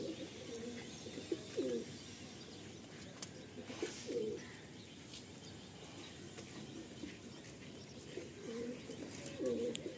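Pigeons coo softly in a loft where birds are kept for sale, low rounded calls repeating at intervals over a faint background hum and occasional chirps, moderately distant.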